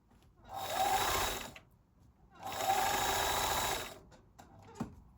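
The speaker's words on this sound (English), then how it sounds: "I'm going to keep stretching and sew over the beginning elastic." A sewing machine stitches over the starting elastic on a sports bra, running in two steady bursts of about a second each with a short pause between, then a few light clicks as it stops.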